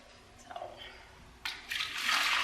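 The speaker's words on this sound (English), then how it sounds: "So I just pour into my pitcher and then pour in the bottles." Water poured into a pitcher, starting with faint scattered trickles and then swelling into a steady, louder rushing pour toward the end, fairly close.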